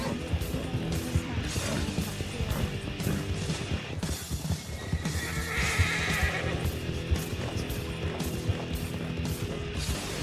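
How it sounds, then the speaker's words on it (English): Horse neighing and clattering hooves in a western outlaw video game, repeated loud whinnies over continuous hoofbeats and thuds, with faint voices underneath. "My horse is about to buck me off."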